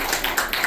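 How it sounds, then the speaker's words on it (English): Audience applause for a speaker at a talk, a brief dense burst of clapping heard close and fairly loud throughout, with no speech over it. "another round of applause"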